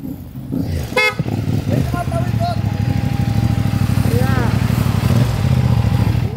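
A motorcycle engine drones close and loud with a rapid pulsing exhaust, and a sharp horn toots once near the start, with people talking over the running motor.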